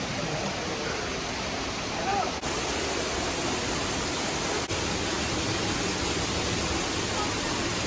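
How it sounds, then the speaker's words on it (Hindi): Steady, loud rushing roar of a waterfall beside the Shiv Gufa cave near Baba Dhansar temple in the Vaishno Devi hills, continuous broadband water noise filling the whole stretch, with two brief dips. "उसके बाजू में झरना है भाई"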